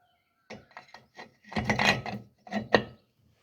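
Ratchet wrench tightening bolts on a quick-change gear cover of a hot rod rear end, a close series of short rasping clicks in bursts, with a longer grinding run in the middle and quiet gaps between strokes.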